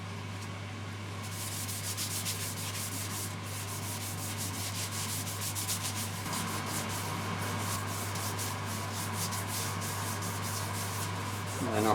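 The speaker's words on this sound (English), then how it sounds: "a good sanding down, so I'll keep doing that, sanding it down" Steady abrasive sanding of a cracked live edge wooden bowl spinning on a woodturning lathe, a continuous close rubbing hiss over the constant low hum of the lathe motor, with rhythmic scratchy pulses throughout.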